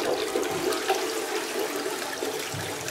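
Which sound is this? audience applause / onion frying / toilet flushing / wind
toilet flushing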